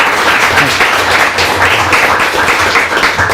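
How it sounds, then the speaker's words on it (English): Audience at a sales meeting giving a round of applause, a dense, continuous burst of many hands clapping, loud and close, with a faint voice underneath. "Let's give Steve a round of applause"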